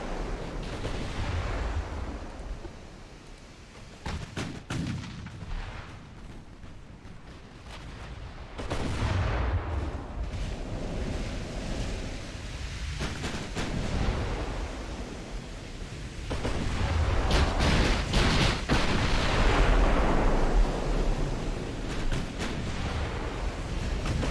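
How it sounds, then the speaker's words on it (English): Warship ammunition detonations in the naval game Ultimate Admiral: Dreadnoughts rumble as heavy booming blasts and rolling gunfire, with a sustained roar swelling in the later part over a constant sea-like wash. "there's another ammo detonation. That time on my flagship"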